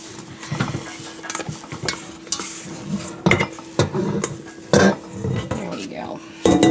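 Risen bagel dough being pressed down and lifted out of a bowl in a home kitchen, with soft thuds, bowl knocks and scraping clatter, while someone talks over it.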